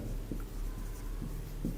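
Soft, close scratching and tapping of someone writing math on a board, a few separate strokes in an uneven rhythm, faint against quiet room noise, with no talking.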